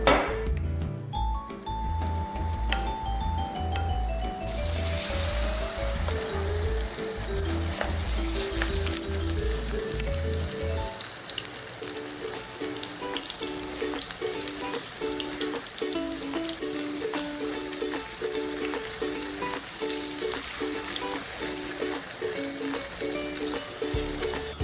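Food fries in hot oil in a wok, opening with metal clinks and stirring before a strong, continuous sizzle takes over and holds steady, close and loud, with occasional utensil taps.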